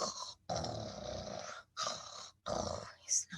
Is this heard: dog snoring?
yes